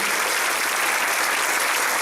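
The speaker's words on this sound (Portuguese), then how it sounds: "Aplauda com alegria a Pastor Alisson, the translator for this morning." A church congregation applauds a visiting pastor's translator during a morning service, with continuous, full clapping that stays evenly loud throughout the short stretch.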